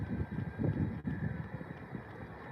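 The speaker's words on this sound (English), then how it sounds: "It's super windy" Strong wind outdoors, a steady low rumbling roar buffeting close against the microphone with small gusty swells and no other sounds.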